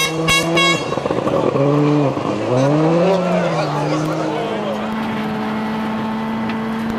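Ford Focus WRC rally car at the 2003 Rally Finland racing over big jumps on gravel stages, its engine note rising and falling steadily as revs swing up and down, with a commentator's voice over the top.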